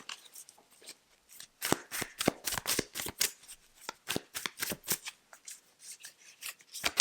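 A tarot card deck being shuffled in a series of quick, crisp riffling bursts and soft rustles, close and fairly quiet with no talking.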